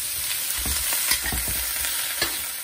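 Green bok choy leaves stir-frying in a hot pan for egg fried rice, with steady sizzling and several soft scraping stirs and clatters, close and moderately loud with no talking.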